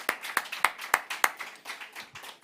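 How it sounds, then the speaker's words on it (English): A small group claps for panelists at an IUCN event during COP28, about ten distinct sharp claps in a steady rhythm that grow softer and looser toward the end. "So a warm round of applause for all of our panelists."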